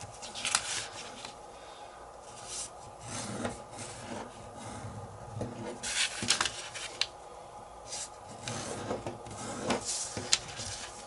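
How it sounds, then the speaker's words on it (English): Paper corners being folded toward the center for an origami lotus flower, heard as soft, close crinkling and rubbing with brief crisp creases scattered through the stretch, no talking. "now we're going to fold the 4 corners to the center."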